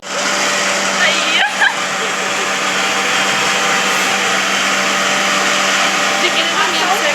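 A kitchen mixer grinder blending a sweet drink with sugar, a loud continuous high-pitched whir that runs steadily throughout, with a brief rattle near the start.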